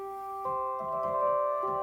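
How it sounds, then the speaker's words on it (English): An electronic organ sustains a bright, brassy chord with held tones and a low rhythmic accompaniment pulsing underneath. "Now if you add a brass to that"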